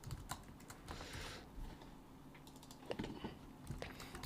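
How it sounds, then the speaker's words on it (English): Computer keyboard keys, mostly the escape key, are tapped in irregular bursts of quick clicks, close and fairly soft, with short pauses between the presses. "most of the keys that you hear me press are escape keys"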